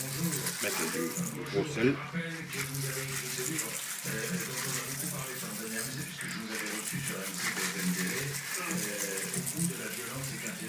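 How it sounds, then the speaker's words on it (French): Running water pours and splashes steadily as snails are rinsed, a continuous tap-like gush at moderate level while a person talks over it throughout. "on va les rincer encore une fois"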